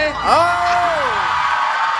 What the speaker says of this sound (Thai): ขอเสียงกรี๊ดดัง ๆ ให้สุดหัวใจหน่อย